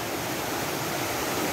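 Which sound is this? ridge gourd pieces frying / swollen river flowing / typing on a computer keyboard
swollen river flowing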